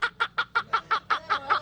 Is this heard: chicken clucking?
yes